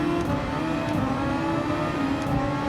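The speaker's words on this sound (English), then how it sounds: "Oh, Mercedes overtaking us now." A Mercedes Formula 1 car in a racing video game sweeps past in an overtake, a steady loud engine whine and whir with a constant rasping drone across the whole stretch.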